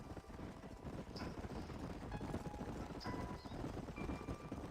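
Horses' hooves clip-clop faintly and steadily in Red Dead Redemption, a soft, even rhythm under wind and open-air ambience, with no talking.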